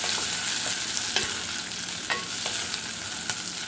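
Tomato and pork frying in a pan, a steady sizzle with occasional scraping stirs and light clinks throughout, close and fairly quiet, with no voices.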